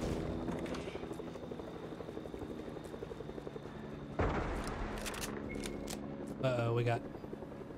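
A helicopter in Fortnite makes a low, steady rotor rumble under a player's talk, joined by a sudden burst of sharper noise and a few clicks partway through.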